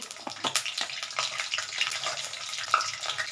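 Nigella seeds and whole dried red chillies with stems dropped into hot oil for a mourala fish chorchori, giving a close crackling sizzle broken by sharp little pops, with no talking.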